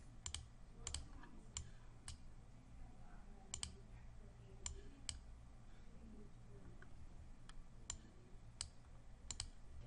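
Someone types on a computer keyboard in soft, irregular keystrokes with brief pauses, quiet and close, with no voices.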